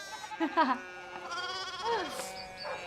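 Sheep bleat in the Pentiment video game, a few wavering cries in close succession over a soft musical or ambient bed, moderately loud and near.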